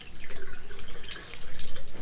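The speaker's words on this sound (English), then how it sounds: "after 20 seconds of running the tap water" Tap water running steadily for an ear irrigation procedure, warmed to about 40 degrees Celsius, a continuous near splashing hiss with slight pulsing flow.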